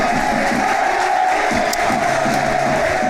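Football crowd at a Barnet versus York City match on a Tuesday night roars and cheers continuously, a dense, loud wash of voices with chant-like swells throughout.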